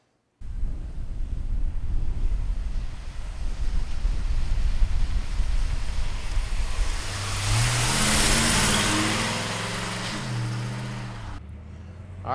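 A 1967 Chevrolet Impala SS engine drones steadily under strong wind noise on the road, then revs and accelerates with rising, climbing tones toward the end; no talk.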